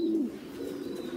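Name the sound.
pigeons cooing, Thai Titan crossbreed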